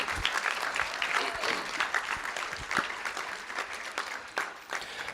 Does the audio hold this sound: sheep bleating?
no